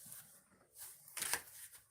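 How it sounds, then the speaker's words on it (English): Tarot cards shuffled by hand at close range, two or three short, soft riffling bursts in an otherwise quiet room. "So, Leos, I got to shuffle the cards"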